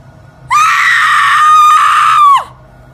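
A woman's sustained, piercing scream, loud and close, rises sharply, holds for about two seconds and then falls off abruptly, used as a sound effect in a ghost story.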